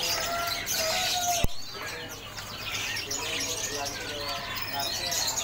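Many parakeets chirp and twitter at a Pramuka bird market kiosk, a busy overlapping chorus of high calls with a sharp knock partway through and someone talking over it.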